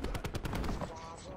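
A video game shooter fires a rapid burst of about seven gunshots, loud and close, which cut off after under a second and leave a ringing tail.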